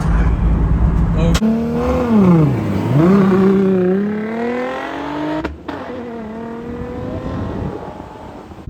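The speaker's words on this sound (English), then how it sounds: "It sounds like a race car." A home-built race car engine revs hard and close, its pitch sweeping up and down in repeated swells, with a sharp break before it settles into a steadier higher drone.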